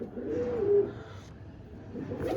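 Punnu pigeons coo softly in a loft, low throaty calls rising and fading over a faint background.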